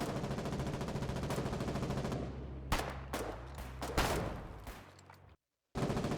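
A mortar tank firing in the war game Foxhole, heard as a dense, loud barrage of rapid gunfire and thuds that breaks into separate sharp shots, then a brief silence before another burst.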